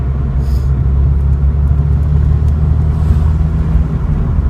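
Nissan Silvia driving on public roads during a shakedown test drive, a steady loud low engine rumble and road noise heard from inside the car, continuous with no talk.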